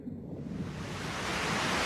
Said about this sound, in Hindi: लो, तेज बारिश भी शुरू हो गई।